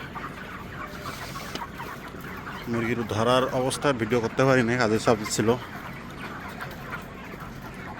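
Chickens being caught and loaded onto a vehicle at night cluck faintly in the background while someone talks loudly over them.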